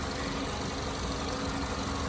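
A 2019 Nissan Sentra SV engine, the cheaper trim, idles under an open hood with a steady, even hum and a constant low rumble, close and continuous.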